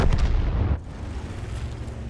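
A Lor.155 50 self-propelled artillery gun in World of Tanks fires a single loud, close boom at the start, its heavy blast rolling briefly before dropping into a low, steady rumble.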